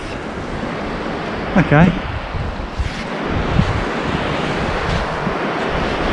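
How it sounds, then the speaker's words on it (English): Steady wind and surf roll along a sandy beach at Aberffraw at a river mouth, a broad continuous wash with brief gusty bumps, while a voice speaks briefly near the microphone. "So this is the beach at Aberffraw."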